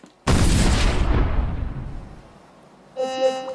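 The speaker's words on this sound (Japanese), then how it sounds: "このスライムを入れると爆発するよ。" Homemade slime bursts with a sudden loud blast that decays into a long hissing rush over about two seconds, followed by a bright tonal chime.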